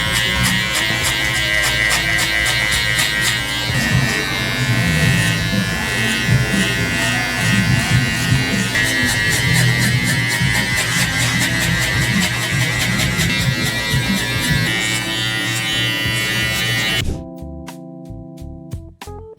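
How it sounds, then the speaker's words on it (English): Electric hair clippers buzz continuously at close range while cutting a taper fade with the clipper-over-comb technique, a loud steady drone that stops abruptly near the end, leaving a brief different tone. "Now we're gonna clipper over comb the excess bulk right here on top of the 3-guard."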